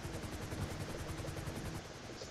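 A helicopter idles nearby at a rescue scene, its rotor chopping in a steady, rapid, fairly quiet rhythm with no voices over it.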